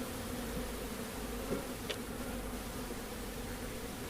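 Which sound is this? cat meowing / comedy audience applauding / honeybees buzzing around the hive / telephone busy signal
honeybees buzzing around the hive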